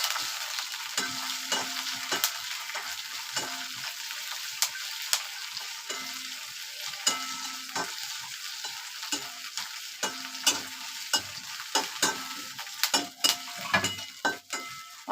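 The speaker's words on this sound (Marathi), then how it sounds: "त्यात मी आलं, लसूण आणि कोथिंबीर एवढं साहित्य टाकून घेते आणि चांगलं भाजून घ्यायचं." Ginger, garlic and coriander frying in a kadhai, steady close sizzle with repeated scraping stirs and light metallic clinks of the spoon against the pan, no voices.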